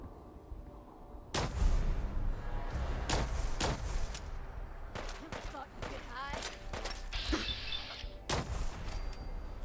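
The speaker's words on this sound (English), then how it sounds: "See, gunshots, fact of life in downtown" Gunshots in the video game Fallout 4, set in a downtown Boston area: several loud, sharp bangs spread irregularly across the scene, mixed with other game sounds and talking.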